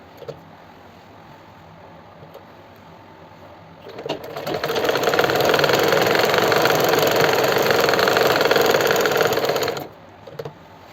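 A sewing machine stitches a marked neck design on a kurti in a boutique, running as a fast, steady, close whirring burst of about six seconds after a quiet start, then stopping.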